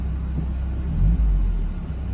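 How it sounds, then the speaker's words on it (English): A car idling with the air conditioning compressor engaging, a steady low engine rumble that swells briefly as the compressor drags on the engine, then settles back to an even idle. "You see it idles up just a little bit, the compressor starts to drag on the engine, and it levels out."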